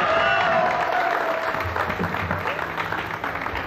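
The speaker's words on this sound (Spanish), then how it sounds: "De aquel lado está Anita Viernes, fuerte el aplauso para ella." Crowd applause at a community event in Salazares, a loud wash of clapping with murmuring voices mixed in, easing slightly toward the end.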